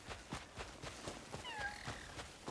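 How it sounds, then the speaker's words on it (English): A cat in the fantasy video game Crimson Desert gives a short, thin meow or two, faint and near, over soft rhythmic footstep-like thuds in the game's ambience. "Cat."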